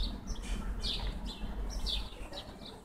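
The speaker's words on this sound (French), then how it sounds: "Ça fait du bien d'entendre ces oiseaux," Small birds chirp and tweet outdoors on a clear spring evening in Amiens, France, with short repeated calls at a moderate distance over a soft steady background hum.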